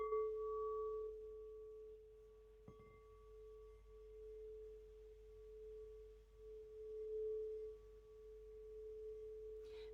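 A glass singing bowl rings with a steady, sustained pure tone and faint higher overtones, soft and continuous throughout, with one brief tap partway through.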